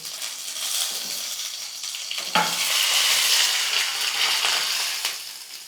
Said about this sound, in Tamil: எண்ணெய் காஞ்சிடுச்சு கடுகு ஒரு நாலு உளுத்தம்பருப்பு கடுகுலாம் நல்லா பொரிஞ்சிடுச்சு கருவேப்பிலை சேர்த்துட்டு சட்னியில் ஊற்றிடலாம்